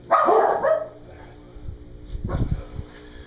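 Dogs bark in a woodturning workshop: one loud, close bark opens, followed by a quieter cluster of lower woofs and grumbles a moment later.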